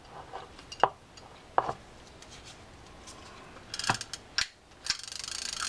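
A Penn BeachMaster fishing reel gets adjusted by hand, giving a few separate sharp clicks and ratcheting snaps with quiet pauses between them, then a short burst of faster clicking near the end.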